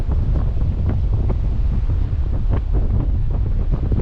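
Wind buffets the microphone beside the River Spey in Scotland in February, a loud, steady low rumble with gusty bursts throughout and no one talking.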